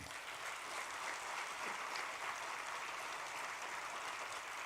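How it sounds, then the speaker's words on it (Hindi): Steady, dense applause from an audience at a political speech, continuous clapping that fills the whole stretch without breaks, loud and close, with no talk over it. "जोर से ताली बजाना"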